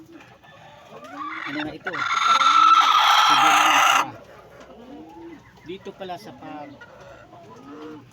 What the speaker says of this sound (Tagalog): Ito siya ang hawak kong na manok ngayon.